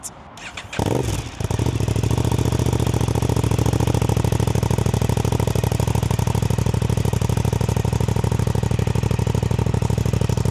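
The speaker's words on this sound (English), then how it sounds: "I've got the Pipewerx 380mm can on there. I'm going to give it a start up." An Aprilia RS660 fitted with a Pipewerx 380mm exhaust can and dB killer cranks and fires up, then settles into a loud, steady, close-up idle that runs on without any talk.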